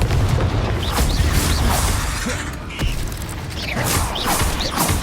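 Repeated booming blasts from the Confringo fire curse in Hogwarts Legacy, several sharp bursts with crackling tails over a dense, loud rumbling battle backdrop, no talk.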